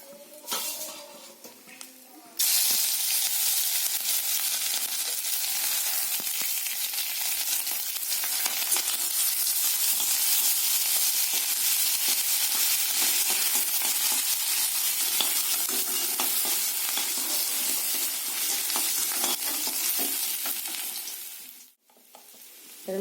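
Ginger and green chili dropped into hot oil already holding bay leaves, dried chili and cumin seeds for a simple vegetarian dish, giving a loud, steady sizzle that bursts on suddenly and runs unbroken for about twenty seconds before dying away.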